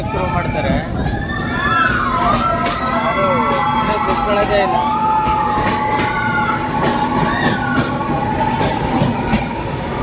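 Passengers whoop and shout loudly, many voices at once, as a train rumbles into a tunnel on the Sakleshpur–Subramanya line, the echoing cries layered over the steady roar of the carriages.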